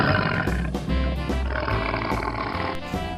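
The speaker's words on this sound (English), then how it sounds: "Wow! Tiger." A tiger's deep roars and growls come in a few rough, rumbling bursts, loud and close, with no talking.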